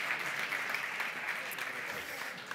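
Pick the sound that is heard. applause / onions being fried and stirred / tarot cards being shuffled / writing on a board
applause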